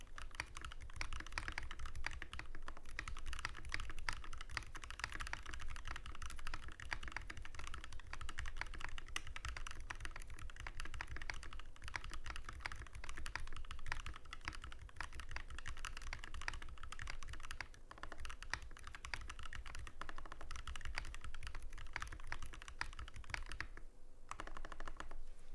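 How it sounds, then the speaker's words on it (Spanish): Steady fast typing on a Tofu60 mechanical keyboard with a brass plate, a dense stream of muted, close key clacks running without a break for over twenty seconds, with no voices over it. "El teclado suena muted."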